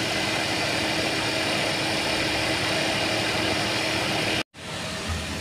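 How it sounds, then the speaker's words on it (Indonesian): A Wuling Confero engine idles with no throttle after a Denso AC compressor swap, making a steady, even drone that cuts out briefly near the end before returning. "Ini kondisi langsam ya, jadi mesin itu tanpa digas."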